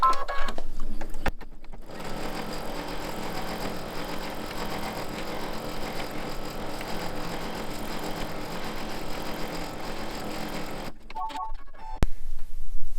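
An embroidery machine stitching an in-the-hoop mug rug runs in a steady, rapid mechanical whir for about nine seconds, stopping briefly near the start and again near the end, with no talk over it.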